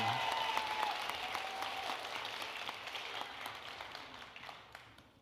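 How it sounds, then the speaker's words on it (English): Applause for students at a school district State of the District event, a sustained round of crowd clapping that slowly fades toward the end, with a faint tone briefly heard early on. "So can we give those students another round of applause"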